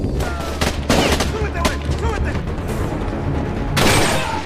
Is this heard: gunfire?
yes